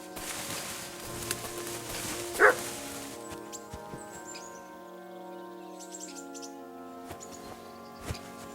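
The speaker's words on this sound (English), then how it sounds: "Barking. It's coming from over there." A dog barks in Kingdom Come: Deliverance 2, one clear bark and a fainter second one later, set against game ambience with birdsong and a low musical drone.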